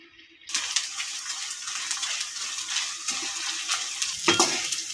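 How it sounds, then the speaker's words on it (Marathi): Small pieces of edible gum (dink) frying in hot oil make a loud, continuous bubbling sizzle that starts abruptly and continues steadily, close by, with a brief clink near the end. "मोठा डिंक आतमध्ये तळला जात नाही, त्यामुळे तो तसाच राहतो। आता मी हा बारीक घेतलाय, तो आपण आता थोडा थोडा करून तळून घेऊयात।"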